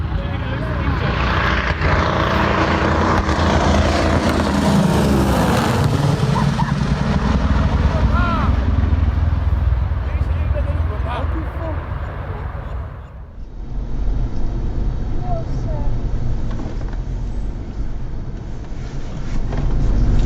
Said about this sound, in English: This is what an in-flight radial engine failure looks like.